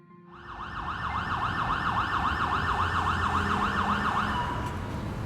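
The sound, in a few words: ambulance siren sound effect in audio drama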